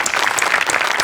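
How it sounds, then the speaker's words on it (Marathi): Loud, dense audience applause for a Marathi comedy skit, many hands clapping in a continuous, energetic burst that fills the whole moment. "जोरदार टाळ्या"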